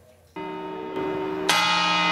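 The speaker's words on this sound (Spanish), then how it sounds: "Sonaban las campanadas" Church bells in Madrid ring out on New Year's midnight, with loud sustained tolls that layer and swell as new strikes come in, with no talk over them.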